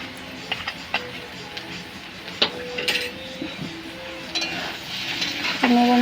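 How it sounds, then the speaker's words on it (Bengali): Potato, onion and chilli frying in a pan, with a low sizzle under sharp metallic clinks and scrapes of a spatula against the pan, sounding at irregular intervals throughout. "আলুটা পেঁয়াজটা আর লঙ্কা দিয়ে ভাজবো"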